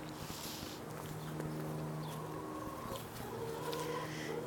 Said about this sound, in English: And the chickens over here are singing to me.